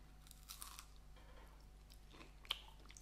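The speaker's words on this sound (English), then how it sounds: "You can hear the crunch." Close, quiet crunching and chewing of a crisp, buttery Eccles cake pastry, with a few soft bites and one sharper crackle against a low background hum.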